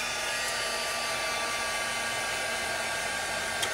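A heat tool blows a steady, loud, close whoosh while heat-setting a glitter-stamped tag, unbroken throughout with no voices.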